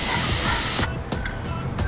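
A loud, close hiss of aerosol cleaner sprayed onto a Jeep Wrangler throttle body lasts almost a second, followed by a few shorter bursts.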